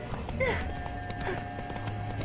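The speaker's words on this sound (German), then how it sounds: "Sie ritt einen scharfen Galopp" Horse hooves in a sharp gallop as a staged sound effect, quiet clip-clops running steadily with a brief whinny-like tone, no talk over it.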